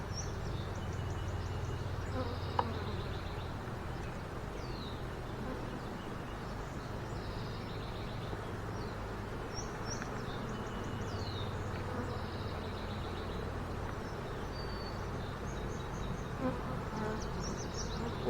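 A dense, continuous hum of many honey bees buzzing close by at an open hive, steady throughout, with occasional individual bees zipping past louder.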